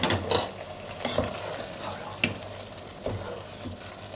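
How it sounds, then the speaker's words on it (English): A spoon stirs paprika through lentil soup in a pot, giving soft scraping strokes with light clinks against the pot over a faint sizzle, heard close and alone. "we add a little spoon of paprika and we mix again everything"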